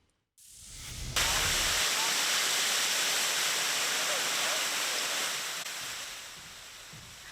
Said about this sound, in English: The break sent water shooting some 50 feet into the air along Los Solanas Lane.